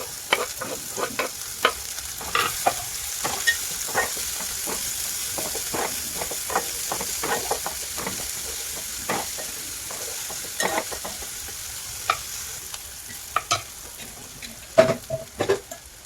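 A large chopped onion frying in a pan with crushed garlic for a prawn curry, a steady sizzle broken by frequent scraping stirs and clacks of a spoon against the pan.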